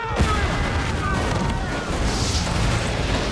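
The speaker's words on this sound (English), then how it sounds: "Somebody said bomb, and then we heard an explosion." Explosions in a TV action drama after a bomb warning during a helicopter search, a deep roaring blast that rumbles on loudly and continuously with debris-like noise and faint voices underneath.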